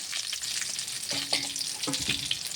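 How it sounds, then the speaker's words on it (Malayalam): Chili dropped into hot oil with lentils during tempering for a Kerala papaya curry, a loud continuous sizzle and crackle up close, sharpening briefly as the chili hits the pan, without talk. "അതിൽ കൂടെ തന്നെ ഞാൻ മറ്റൊരു മുളക് പിന്നെ ഞാൻ ഇടുന്നത്"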